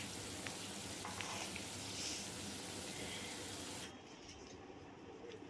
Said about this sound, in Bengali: সর্ষের তেল দিয়ে আমি এই চিংড়ি মাছগুলো ভেজে নেব।